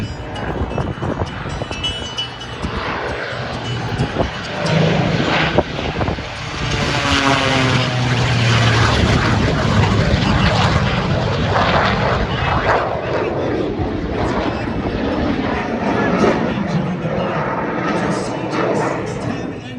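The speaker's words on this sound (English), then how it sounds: "Listen to the sound of that radial piston engine." Radial piston-engine propeller airplane passing at an air show near a shoreline, a loud droning engine swelling and fading over about twenty seconds with a person talking over it throughout.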